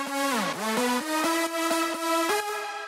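Layered synth leads, including a filtered glassy pluck, play together: bright repeated plucked notes with a pitch dip early on, then steady stepping tones, dense and close with no voices.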